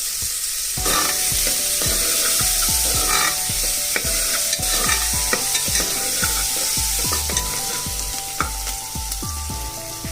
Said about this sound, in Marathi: कांदा आपण थोडा लाल करून घेऊया